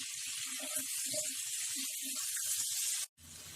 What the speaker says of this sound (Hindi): फिर से मीडियम फ्लेम पे हम इन्हें 3 से 4 मिनट तक फ्राई कर लेते हैं